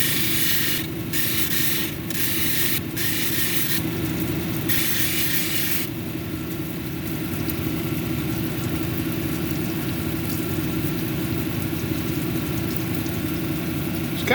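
A motorized 280 grit wheel hums and whirs steadily while a zebra calcite cabochon is sanded on it, with brief bursts of higher-pitched grinding each time the stone touches the wheel in the first few seconds.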